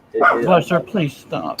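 A dog barks and yips in short bursts close by, mixed with a person talking over it.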